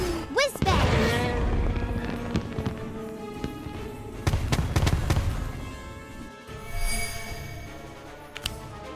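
Whizbang spell fireworks in a Harry Potter video game, with a rising whistle and then several crackling explosive bursts and booms that fade out. Spell shouts and game effects come and go around them.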